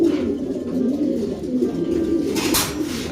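Pigeons coo steadily in a breeding loft, a continuous low murmuring chorus of several birds close by, with no talk over it.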